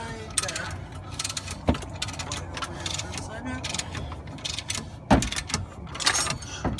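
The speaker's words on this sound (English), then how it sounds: "the crescent wrench is just gonna do gravity's job for me" A crescent wrench loosens a bolt on the rear air spring of a Mercedes E-Class, giving sharp metallic clicks near 2 and 5 seconds over a steady clatter of nearby mechanical workshop noise.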